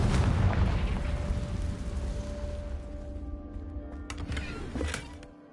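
The Confringo explosion spell in the Hogwarts Legacy video game: a loud rumbling blast opens, fades into a long tail, and a few sharp pops and cracks follow before it dies away.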